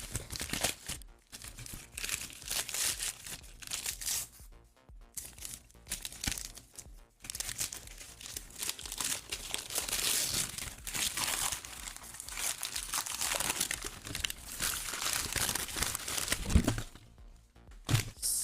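The foil or plastic wrapping on a tequila bottle is torn and crinkled open by hand, without scissors. Crackling, crumpling and ripping noises come close to the microphone in uneven bursts with a few short pauses.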